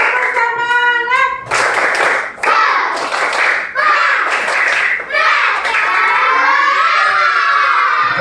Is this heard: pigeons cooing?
no